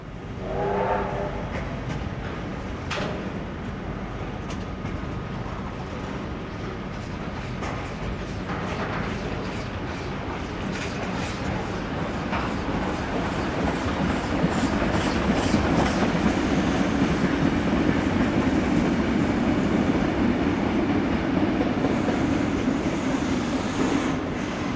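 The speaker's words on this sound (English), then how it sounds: "a southbound freight train came trundling past on the standard gauge line" A long southbound freight train rumbles past nearby on a standard gauge line, wheels clattering rhythmically over the rails, growing louder and heavier as the cars roll by.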